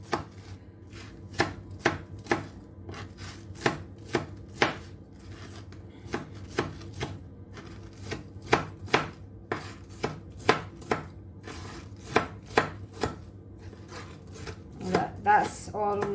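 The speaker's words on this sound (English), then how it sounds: "let's start chopping the chicken to small pieces like that" A sharp knife chops chicken into small pieces on a board in a steady, fairly quick rhythm, with a brief flurry of faster cuts at the end; no voices.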